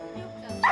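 Heavy dog of over 20 kg barking from an upstairs floor of a two-storey home, one short, loud, close bark with a sharp rise at the end.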